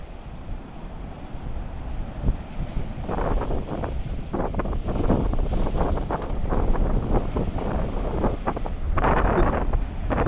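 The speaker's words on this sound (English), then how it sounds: "The waves are really hitting it hard." Sea waves hitting hard against the shore at Niigata, Japan, with strong wind buffeting the microphone, a loud continuous roar of surf and gusts that surges in several bursts, with no talking.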